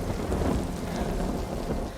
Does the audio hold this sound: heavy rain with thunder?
yes